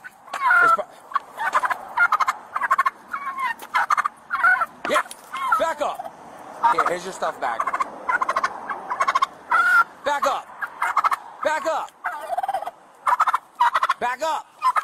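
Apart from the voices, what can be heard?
turkey gobbling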